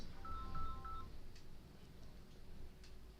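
Incoming call signal at a radio station: a short series of electronic telephone tones at the start, followed by faint clicks and low background hum.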